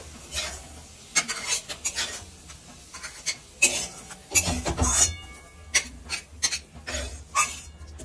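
Cooked dried fish is spooned into a tiffin box, giving close, irregular scrapes and clinks of the spoon against the container in short bursts, with no talking.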